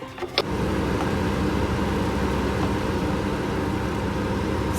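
A steady, loud whooshing kitchen range hood fan hum starts after a brief click and runs continuously with a broad, even rushing noise.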